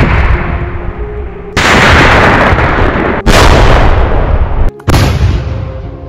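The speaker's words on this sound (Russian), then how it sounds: "Закладываем пластид на место взрывателя и уходим на безопасное расстояние." Plastic explosive detonating in place of a fuse, heard as a series of very loud, close blasts with sharp onsets and long roaring decays, one after another with no speech.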